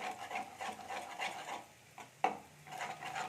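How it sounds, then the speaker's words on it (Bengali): An egg seasoned with a little salt is beaten in a bowl, giving a close, rhythmic run of soft scraping strokes with a brief pause and one sharp knock against the bowl. "এবার ডিমটাকে আমি একটু ঘেটে নিচ্ছি"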